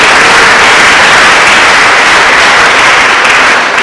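A church congregation at a gospel service breaks into loud, dense applause that continues at full strength throughout, close and enveloping, fading only slightly at the very end.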